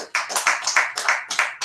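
Audience at a monthly team meeting clapping in several quick bursts, close and fairly loud, with a few loose claps between them.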